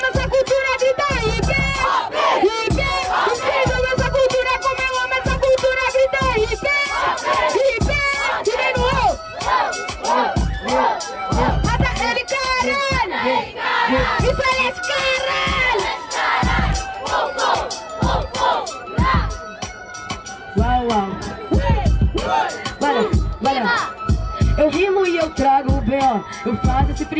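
A large crowd at a rap battle yells, whoops and cheers in loud surging bursts, voices overlapping continuously with a few sharper peaks.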